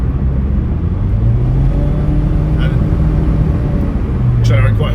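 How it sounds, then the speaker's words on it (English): Nissan Micra K11 with a CVT gearbox accelerating hard in drive, giving a steady, loud low engine drone and road rumble from inside the car that holds at one pitch throughout. "You can do this as well by just putting your foot down while still in drive."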